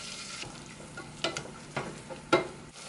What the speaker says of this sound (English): Let's add our butter. We're gonna add our onion.